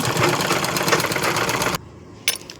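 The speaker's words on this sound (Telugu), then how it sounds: "చక్కని కుట్లు వేస్తున్నానండి అయిపోయింది బ్లౌజ్ స్టిచ్చింగ్ మొత్తం" A sewing machine stitching a blouse, running loud and close with a rapid mechanical whir that stops abruptly, followed by a brief clatter and quiet.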